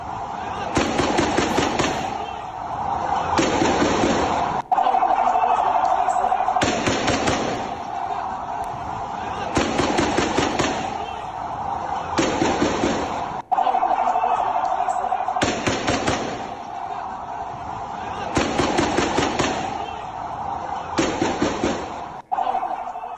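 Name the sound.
gunfire during IDF operation in Jenin camp, West Bank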